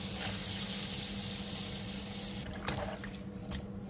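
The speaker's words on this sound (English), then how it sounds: "so I wash the rice now" Rice being washed in water while cooking Jamaican punkin rice: a quiet continuous swish and trickle of water like a running tap, with a couple of small splashes near the end, no talking.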